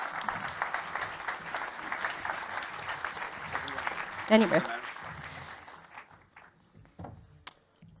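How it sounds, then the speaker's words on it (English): An audience at an infrastructure think-tank panel applauds steadily for several seconds, then the clapping fades out and a voice speaks briefly near the end. "Please give them a warm round of applause."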